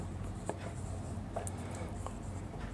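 Pen or chalk writing on a board during a maths lesson, a few soft scratchy strokes over steady room hum, close and fairly quiet.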